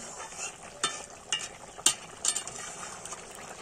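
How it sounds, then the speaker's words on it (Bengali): Cooked fish curry with potato and Malabar spinach being stirred in a pot with ground cumin just added, a few separate scraping spoon strokes against a low simmering bubble, close and moderately quiet. "এবার নাড়াচাড়া করে নামিয়ে নেব।"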